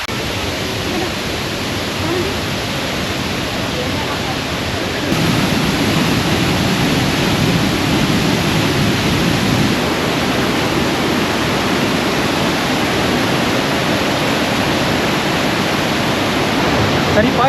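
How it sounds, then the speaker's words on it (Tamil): Seethathundu waterfall near Kollengode roars as a steady, loud, broadband rush of falling water, continuous throughout with no break. "இடத்துக்கு பேர் சீதத்துண்டு வாட்டர் ஃபால்ஸுங்க."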